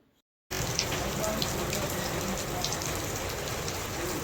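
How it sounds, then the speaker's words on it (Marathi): Steady rain falls outside a home after several days of continuous downpour, a dense, even hiss that starts abruptly after a moment of silence and holds at constant loudness throughout, with no talking. "बाहेर जो आहे तो पाऊस चालूच आहे तीन चार दिवस झालं लागोपाठ पाऊस जो आहे तो पडत आहे"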